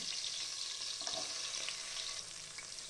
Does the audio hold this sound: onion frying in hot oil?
yes